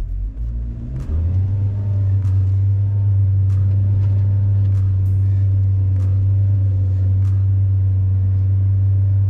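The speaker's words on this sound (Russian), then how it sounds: "Вот у меня газ утоплен в пол, больше 3000, коробка не дает крутить." Lada Vesta with automatic transmission straining up a hill with the accelerator floored, a steady loud low engine drone holding at constant revs throughout, close inside the cabin.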